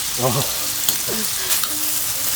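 Spicy marinated pork stir-fried with a spoon on a hot iron griddle at a lakeside campsite, giving a steady close sizzle with occasional scraping taps while voices talk briefly over it.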